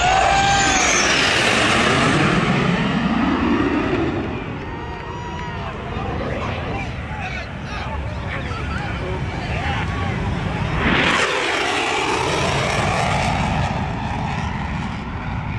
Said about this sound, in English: This is the US Air Force Thunderbirds flying very low over a beach.